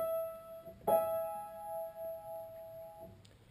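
Piano plays the higher intro notes of a song: a sustained tone with a struck note near one second and another soft note near three seconds, clear and close with no talking.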